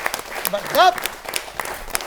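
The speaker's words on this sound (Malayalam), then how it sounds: "എല്ലാവരും ഒന്ന് കൈയടിക്കുക" An audience claps hands in a quick spatter of sharp claps, with a voice speaking loudly over the clapping throughout.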